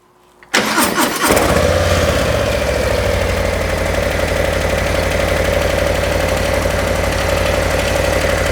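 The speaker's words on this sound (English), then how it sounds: "let's go ahead and get the bike fired up so you can hear how awful the stock exhaust sounds" An Indian motorcycle with a 117 engine and stock exhaust cranks and fires up, then settles into a loud, steady rumbling idle with a throaty exhaust note.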